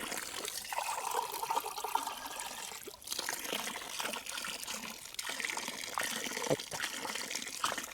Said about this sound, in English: the best thing about this stop is there's some fresh running water,